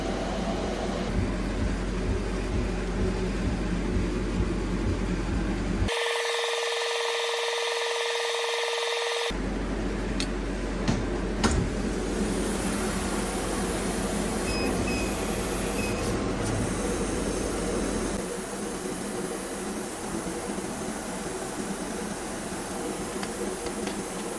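A laser engraver etching embossing seals runs with a continuous loud whirring hiss of fans and motion, steady throughout with a brief change in tone partway through.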